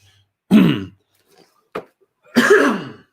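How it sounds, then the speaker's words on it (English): Two separate throat clearings, close and fairly loud, with a short faint catch of breath between them and nothing else around. "Sorry, I was trying to clear my throat here."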